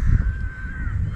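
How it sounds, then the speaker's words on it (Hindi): Crows cawing among other birds at a green park wetland with birds from many countries near Surajpur in Delhi-NCR, a single drawn-out call held over steady low outdoor rumble. "यहाँ पे बहुत सारी कंट्री से, अलग अलग कंट्री से बहुत सारे पंछी आए हुए हैं"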